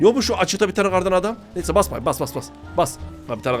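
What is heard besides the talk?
No everyday noises stand out.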